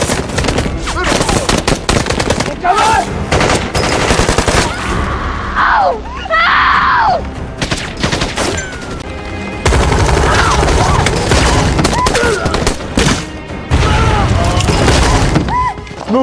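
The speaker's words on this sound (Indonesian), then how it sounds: "Namun aksi penyusupan mereka ketahuan oleh anak buah Mullah sehingga baku tembak pun terjadi." Sustained gunfire during a firefight in a war film set in Afghanistan, with dense rattling bursts of automatic weapons, heavy booms, and shouting and voices mixed into the chaos.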